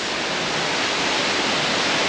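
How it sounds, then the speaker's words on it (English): A waterfall fountain out front of a hotel pours in a steady, broadband rush of falling water, loud and close, continuous with no voices over it. "So there's that beautiful like waterfall fountain that's at the front of the hotel."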